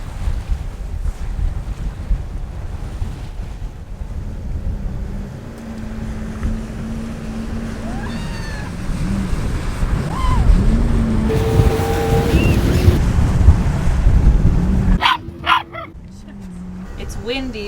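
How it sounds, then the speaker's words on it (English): Wind gusts buffet a sailboat at sea in a sheltered spot, a steady roar with people talking over it and a dog barking briefly. "Look, the wind's actually coming now."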